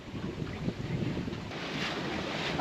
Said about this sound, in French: je te montre comment c'est quand il y a un coup de vent